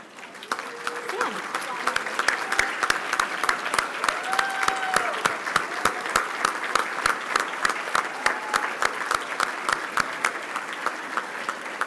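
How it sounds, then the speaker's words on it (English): Applause from an award ceremony audience honouring women recipients, sustained, rhythmic clapping with a few sharp louder claps near by, lasting about twelve seconds, with faint voices and cheers mixed in. "Thank you for giving these outstanding women a well-deserved round of applause."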